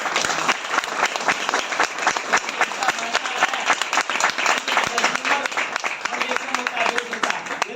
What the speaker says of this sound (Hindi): एक जोरदार तालियां बजा सकते हैं।